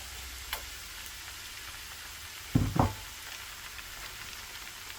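Tomatoes go into a pan of softened frying onions, giving a low, even sizzle throughout. A brief heavier burst of hiss and stirring comes near the middle.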